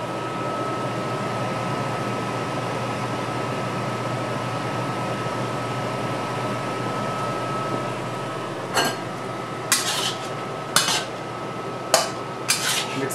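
A utensil clinks against a bowl while tofu, peas and shrimp are mixed with salt and white pepper. A few sharp clinks arrive only in the last seconds, over a steady fan-like hum.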